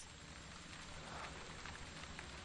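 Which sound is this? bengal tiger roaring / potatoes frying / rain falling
rain falling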